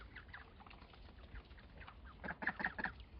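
Farm ducks rummaging in a large bucket in a yard: soft quacks and clucking calls, faint and close, with a short cluster of louder calls near the end and no talk.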